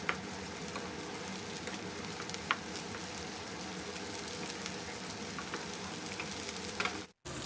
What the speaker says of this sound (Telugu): కొద్దిగా కరివేపాకు వేసుకుందాము అలాగే ఒక హాఫ్ స్పూన్ అల్లం వెల్లుల్లిపాయ పేస్ట్ కూడా వేసుకొని బాగా కలుపుకొని ఫ్రై చేద్దాము